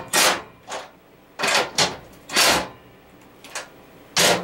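Work on the clamp of a Harbor Freight motorcycle lift produces a series of sharp metallic clicks and ratcheting snaps, about seven separate bursts spaced irregularly, close and fairly loud with quiet gaps between.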